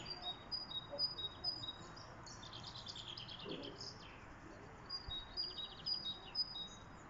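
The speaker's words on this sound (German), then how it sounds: "Ja, sind schon zwei Vögel auf dem Baum. Amsel und so ein Singvogel." A blackbird and another songbird sing from a treetop on a dull, wet day, repeated high chirps and trills heard at a distance, faint under steady outdoor background noise with occasional low human sounds.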